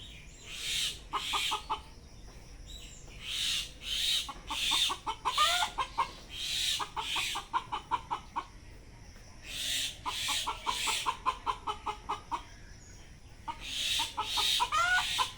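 Chickens in a coop cluck in repeated rhythmic bursts, close by, with brief lulls between rounds of clucking.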